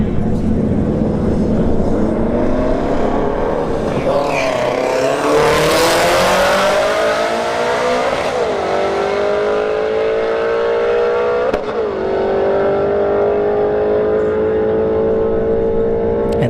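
Loud, close drag racing launch of a Shelby GT350 and a Golf GTI at a motorsports park, engines roaring and climbing steadily in pitch through gear changes as they pull away.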